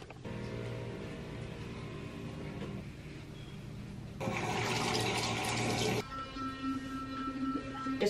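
A tap runs steadily into a sink during face washing, with a continuous splashing flow that grows louder and brighter midway and then settles, heard close up with no talking.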